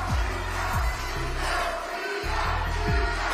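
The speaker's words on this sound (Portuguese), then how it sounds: "A plateia está na torcida." Audience cheering and chanting at the Miss Universe Brazil 2022 pageant, a dense, steady crowd roar with rhythmic low chant-like swells throughout, no speech over it.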